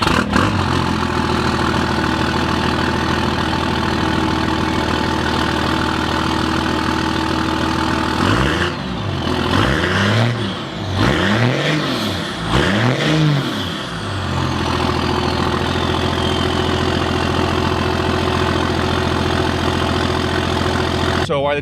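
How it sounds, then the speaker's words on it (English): A truck engine idles on a cold winter morning after its first cold start of the season, a loud steady rumble that briefly revs up and down mid-way before settling back to a constant idle. "But I am going to do a cold start, first cold start of the winter"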